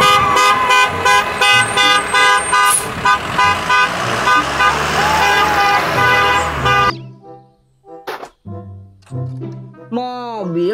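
Toy school bus horn sounding in a repeated tooting pattern with music-like harmonic tones for about seven seconds, then a near voice speaks briefly.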